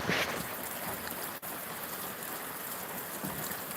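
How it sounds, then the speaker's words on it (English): Steady rain falls outdoors on a cold, wet day, a dense even hiss that holds for the whole stretch with no voices. "It's rain. I'm getting wet."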